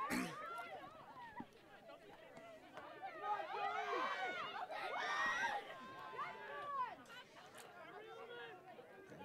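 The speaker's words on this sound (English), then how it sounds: "cheering going on down below" Crowd cheering and shouting at a high school swim meet, the Polar Bear Invitational, with a steady din of voices and whoops echoing below, swelling in bursts through the middle of the stretch.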